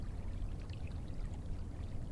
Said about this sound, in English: As the water flows by